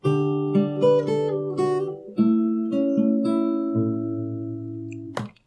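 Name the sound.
fingerstyle guitar playing next part of a song from Barfi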